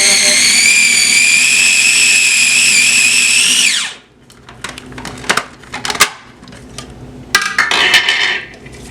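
A kitchen blender grinds pesto in a loud, high whine for about four seconds, then cuts off, leaving scattered clinks and scraping of a spatula against the jar.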